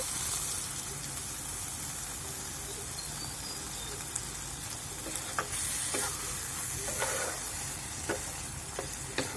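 Mustard paste frying with pointed gourd in a pan, a steady close sizzle broken by occasional scraping stirs and utensil taps.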